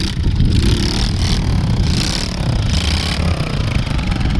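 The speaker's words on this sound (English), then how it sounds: "It's normally easier to learn on a less like kind of powerful bike, like a pit bike like I'm showing you today" A pit bike engine revving hard during a wheelie, a loud, close, buzzing roar that surges and dips in pitch over a few seconds without pause.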